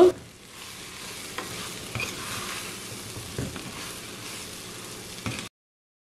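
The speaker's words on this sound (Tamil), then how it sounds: "இப்படி மிக்ஸ் பண்ண பிறகு ஒரு 3 நிமிஷம் இதை கிளறி இதை நாங்கள் வதங்க விடுவோம்." Steamed breadfruit with chili powder is stir-fried over low-medium heat, a soft continuous sizzle under occasional scraping stirs of a spoon in the pan, close and fairly even until it cuts off near the end.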